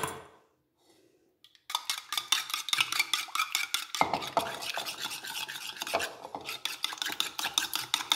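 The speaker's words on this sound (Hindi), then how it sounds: "ये इस तरीके से हमने अंडे फेंट लिए हैं।" Eggs being beaten with an ordinary spoon in a bowl for a marble cake batter: a fast, steady run of close, bright clinking and scraping strokes that starts after a brief quiet moment and keeps going without pause.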